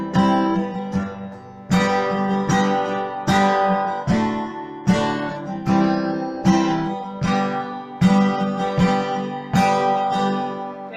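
Acoustic guitar strumming a song with the second strum reduced to a light touch, giving a lilting pattern of strong accented strokes and softer ones, close and loud, no talking.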